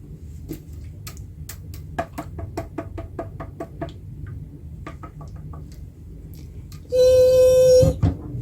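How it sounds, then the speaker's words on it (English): Rapid sharp knocks tap out an uneven rhythm against a low hum, then a bright ringing tone cuts in briefly near the end. "although maybe knocking"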